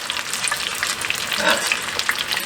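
Shrimp deep frying in hot oil in batches of four or five, a dense steady crackling sizzle with popping bursts, close and continuous.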